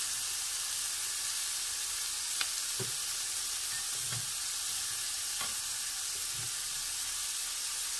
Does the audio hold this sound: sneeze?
no